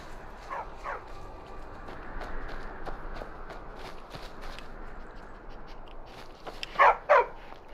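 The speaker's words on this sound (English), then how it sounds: "Stupid dog." A dog in Skyrim gives two short, loud barks near the end, after several seconds of quiet outdoor ambience with faint footsteps.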